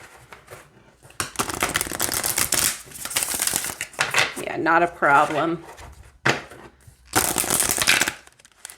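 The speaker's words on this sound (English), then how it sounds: "let's see how it shuffles." Oversized Kali Oracle cards are shuffled by hand in two close bursts of papery riffling and slapping, with a short spoken reply in between.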